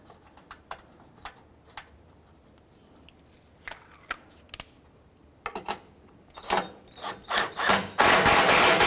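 A power tool snugging down headlight bolts on a 2009-2015 Honda Pilot: scattered light clicks and taps, then rising short whirring bursts building to a loud sustained drive at the end, close up with no speech.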